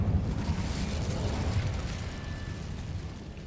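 Incendio fire spell cast in Hogwarts Legacy, a rolling, roaring burst of flame that fills the moment with a dense, low rumble and crackle, fading slightly toward the end.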